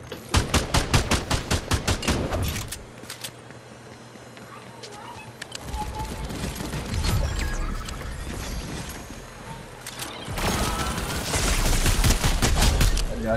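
Rapid turret gunfire in a Fortnite Season 4 trio match: a dense burst of fast shots opens, then softer game noise, then another sustained volley near the end, loud and close.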